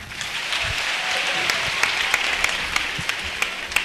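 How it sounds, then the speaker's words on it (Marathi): An audience at a live music ensemble concert applauds, a dense continuous patter of many hands clapping, with a few sharper claps standing out near the end. "एकदा जोरदार टाळ्या"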